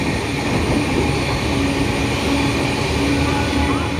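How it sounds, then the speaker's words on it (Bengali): A train rushing at full speed through Barrackpore station, platform 3, on the run from Kolkata toward Darjeeling; a dense, steady roar of wheels and rushing air, loud and continuous, with no voices. "এখন আমাদের ট্রেন পার করছে আমাদের হোমটাউন ব্যারাকপুর স্টেশন দিয়ে"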